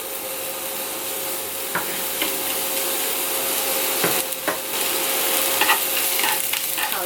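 Onions stir-fried in a little oil in a hot wok while cooking onion fried egg, giving a steady sizzle with occasional scraping clicks of a spatula throughout.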